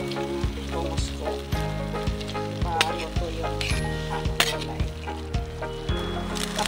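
A pan of labong (bamboo shoots), saluyot leaves and sitaw beans is stirred while sizzling, steady frying hiss under rhythmic scraping strokes of the spoon, close and fairly loud.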